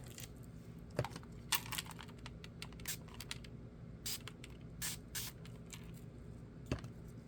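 Quiet, short hissing spray bursts repeat irregularly, close by, in a soft room with faint clicks between them.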